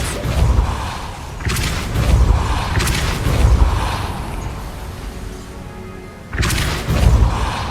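Depulso force spell cast in Hogwarts Legacy, heard as several heavy, booming magical thumps and rushing bursts, loud and close, separated by quieter mechanical rumbling.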